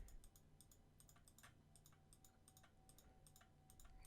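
Computer mouse clicking at random while placing objects in 3ds Max, sharp faint clicks scattered irregularly across a quiet room with a steady low hum.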